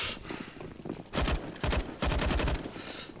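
Gunfire in the video game CS:GO, loud rapid bursts of automatic shots in three or four clusters separated by brief pauses, close and sharp.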